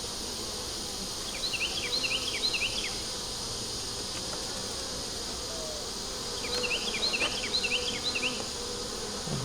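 Honeybees buzz around an open hive during a beetle-trap inspection, a dense steady hum close by with two bursts of faint chirping birds or insects layered over the drone.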